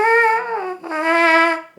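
Trumpet mouthpiece buzz with breaks in the airstream: a steady, bright pitched buzz that dips and briefly drops out partway through, then resumes and fades near the end, close and clear.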